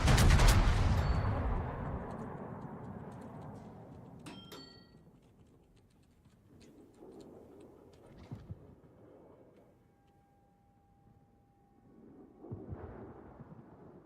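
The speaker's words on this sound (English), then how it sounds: "The Riga is shooting the Jean Bart." Naval gunfire from the cruiser Riga in World of Warships: a heavy, booming salvo opens loudly and rumbles away over a couple of seconds, followed by fainter distant shots and low rumbles at intervals.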